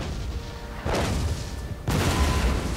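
Two heavy cannon booms in Napoleon Total War, the second louder and closer, each landing as a sudden broadband blast with a low rumbling tail and no voices over it.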